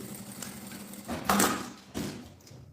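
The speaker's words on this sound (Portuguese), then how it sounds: "Não tem? Vai de costura. Então, faz a costurinha aqui." A sewing machine stitches the strap of a messenger bag. A short, close mechanical run swells in the middle, then gives a brief second burst before fading.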